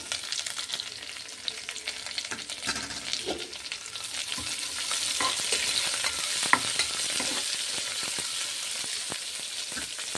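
Onion sizzling and frying in a pan with cashews, raisins, mint and coriander, a steady loud crackle with scraping stirring strokes throughout and no voices.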